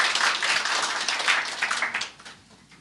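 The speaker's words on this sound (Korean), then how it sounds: "우리 뜨거운 박수로 환영하겠습니다" Church congregation giving warm applause to welcome first-time visitors, a steady wash of clapping that fades out near the end.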